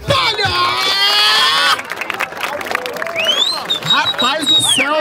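Crowd at a street rap battle in Barueri, São Paulo, erupts in loud cheering, whoops and scattered applause, with shouting voices and an MC talking over the dense, sustained noise.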